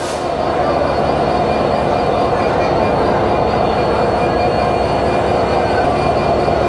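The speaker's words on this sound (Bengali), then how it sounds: "আর এই হচ্ছে আমাদের সেই রূপসী বাংলা এক্সপ্রেস কমলাপুর রেলওয়ে স্টেশনের 7 নম্বর প্ল্যাটফর্মে দাঁড়িয়ে আছে।" Rupashi Bangla Express, arrived from Khulna, stands at platform 7 of Kamalapur railway station while a loud, steady rumble of train and station noise fills the scene without pause.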